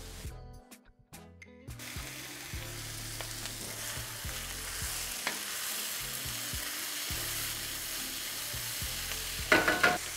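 Peas and carrots stir-frying in a hot pan with butter, ginger and garlic, a loud continuous sizzle with repeated scraping stirs and clinks, close up, after a brief quiet start.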